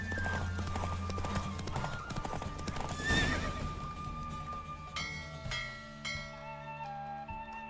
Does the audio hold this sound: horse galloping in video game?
yes